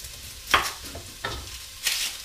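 Smoked sausages frying in a pan over high heat, with a soft sizzle under a few scraping, stirring strokes that come in three short bursts.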